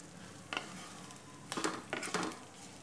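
Sabudana khichdi with crushed peanuts, salt and sugar being stir-fried in a pan, a low sizzle under several distinct bursts of spoon scraping and clatter against the metal.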